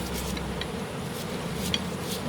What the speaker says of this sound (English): brush the bees off the combs like this